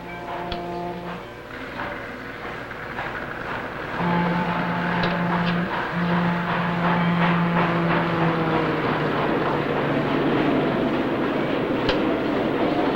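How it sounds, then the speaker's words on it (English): A model steam train rumbles steadily along its track with rhythmic clicking, a sustained tonal hum rising partway through, continuous and fairly close. "The sound of the trains running"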